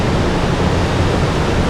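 Niagara Falls waterfall roars in a dense, unbroken wash of loud broadband noise, steady and close with no pauses or voices.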